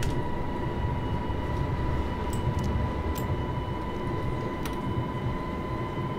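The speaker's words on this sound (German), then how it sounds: "Die S-Bahn kommt uns auch entgegen." A passing S-Bahn train in the Train Simulator 2021 Vienna route, a steady loud rumble with a constant tone and a few brief high squeaks, no talk.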